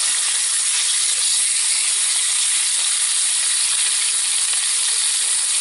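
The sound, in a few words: ribeye steak searing and flaring up on a cast iron skillet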